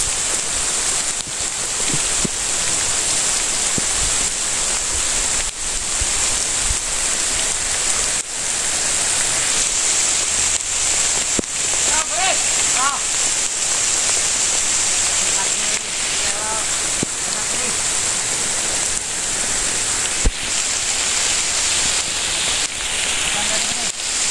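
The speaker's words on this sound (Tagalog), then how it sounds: "Sobrang lakas ng ulan" Heavy rain pours in a steady dense hiss with scattered heavier drops and splashes, loud and constant throughout, with occasional faint voices beneath it.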